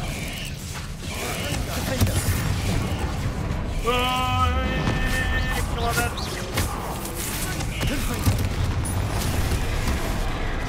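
An Expelliarmus disarming spell strikes in the Hogwarts Legacy video game, a rumbling, booming impact with mechanical creaks and ringing tones, mixed with a voice throughout.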